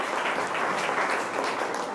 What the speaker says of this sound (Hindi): एक बार उनके लिए जोरदार ताली बजा दीजिए।